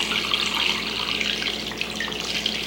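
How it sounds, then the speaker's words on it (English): Water pours steadily from a tap into an Instant Pot to cover bones for bone broth, a constant close rushing splash with no voices. "cover them with water. You want them to be completely covered with water."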